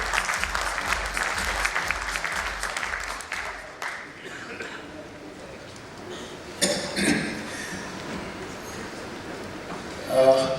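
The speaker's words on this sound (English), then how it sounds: "Can we have a good round of applause for him as well?" An audience claps loudly for about four seconds, then the applause fades into a quieter room with a voice speaking.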